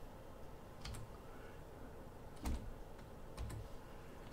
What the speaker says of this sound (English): So I'm going to go ahead and type in the 700 number.